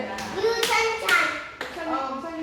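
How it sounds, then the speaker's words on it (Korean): A few loud bursts of applause during a gift presentation at a Sunday church service, mixed with voices and someone speaking. "박수. 두 손으로 드리는 거예요."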